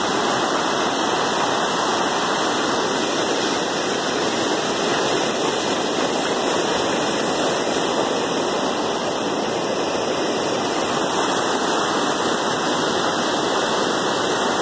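Glacier-fed mountain stream on the Park Butte Trail near Mount Baker, Washington, rushing under a footbridge: a steady, loud, close roar of churning water that continues without a break.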